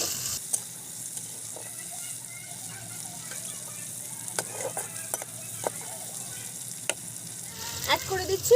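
Chopped onions frying in mustard oil while a spatula stirs them, a soft steady sizzle with scattered scraping taps and a louder clatter near the end; a voice speaks intermittently over it.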